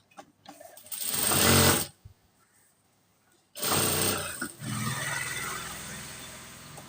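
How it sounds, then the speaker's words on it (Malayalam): A sewing machine stitches fabric in two bursts, a rapid mechanical whir that runs, pauses briefly in near silence, then starts again and continues to the end. "ഈ ഒരു ഷേപ്പിൽ തന്നെ സ്റ്റിച്ച് ചെയ്ത് വരണേ."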